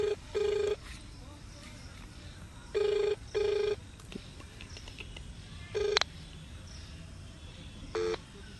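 A telephone rings faintly in short electronic bursts, coming in pairs and singles with gaps of quiet room noise between them during a call.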